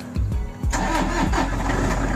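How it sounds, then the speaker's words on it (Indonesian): Used 2017 Toyota diesel car with about 30,000 km on the odometer cranking and starting at a Jakarta auction lot, a short starter churn then the engine catching into a loud, steady diesel idle, close up with no talk. "Oke, mesin diesel masih oke."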